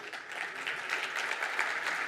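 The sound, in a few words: applause from an audience welcoming a speaker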